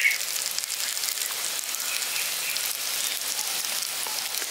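Chicken pakoras frying with garlic, chili and curry leaves make a steady, even sizzle with soft crackles throughout, close up and with no voices.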